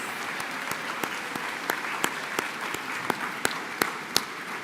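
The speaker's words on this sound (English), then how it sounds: "Let's give them a big round of applause." Crowd applause at a college commencement ceremony for career and technical programs: a steady wash of clapping with distinct sharp individual claps popping out near and clear throughout.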